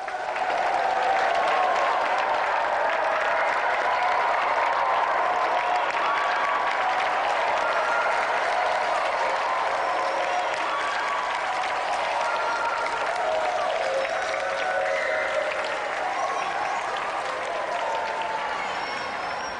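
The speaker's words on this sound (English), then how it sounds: "Give a round of applause for our challenger." Studio audience on the Gamesmaster game show applauds a challenger being called down, a dense, steady clapping that holds at an even level for about twenty seconds with no voices on top.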